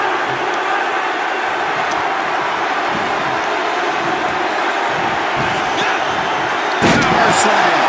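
A heavy power slam crashes down in the WWE 2K25 wrestling video game, one sharp, booming impact near the end, set against a constant loud arena crowd and a few smaller thuds earlier.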